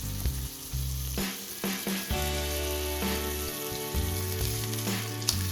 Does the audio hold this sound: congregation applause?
no